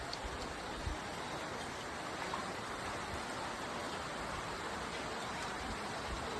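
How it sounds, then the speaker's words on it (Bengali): Heavy rain pours down steadily over a flooded village market at Mirikpur in Lakshmipur, a dense, even hiss of falling water with no voices and no break. "কি ভারী বৃষ্টি হচ্ছে এখনও"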